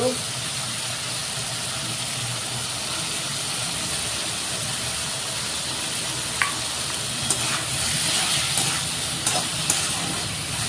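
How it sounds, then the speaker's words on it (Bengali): Tomatoes sauté in a hot pan for a potato and chitol fish curry, producing a continuous close sizzle and hiss with a few sharp stirring scrapes near the end, while a voice talks faintly over it. "দেখেন টমেটো দিয়ে ভালো করে কষিয়ে নিচ্ছি অল্প।"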